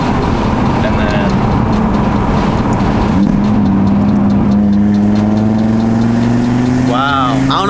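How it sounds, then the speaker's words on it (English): Audi RS3 with stock exhaust, downpipe and mid pipes, accelerating with the exhaust valves open, loud steady drone that climbs in pitch toward the end, voices talking faintly over it. "listen to the sound difference in the exhaust"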